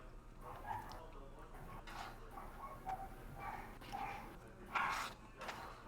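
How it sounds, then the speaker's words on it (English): A dog barks in the video game Castlevania: Lords of Shadow, giving several short, quiet, spaced-out barks over a low background hum, with occasional talk. "That's a dog."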